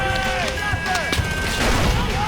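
Frag grenade explosions in Far Cry 4, a dense run of booms and bangs mixed with gunfire-like cracks, loud and continuous against in-game music and effects.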